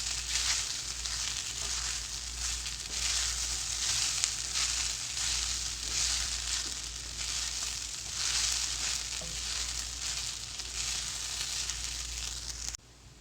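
Sabudana khichdi sizzles in a frying pan while being mixed, a continuous close hiss of hot oil with faint scraping of the spoon underneath and a steady low hum, no voices.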